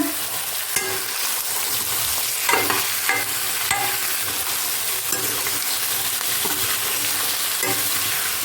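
Onions and potatoes are stir-fried together in a pan, giving a constant loud sizzle broken by repeated scraping and clanking stirring strokes, close up with no talking.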